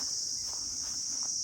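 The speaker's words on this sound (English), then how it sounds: "Apart from that, you can hear the insects," Insects and grasshoppers calling in quiet countryside, a steady high-pitched shrill drone with faint soft scuffs beneath, moderately distant and low in level.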